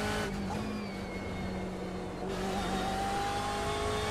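A BMW M8 GTE race car in the iRacing video game, its engine droning loud and steady with a brief dip and shift in pitch partway through, continuous and alone without voices.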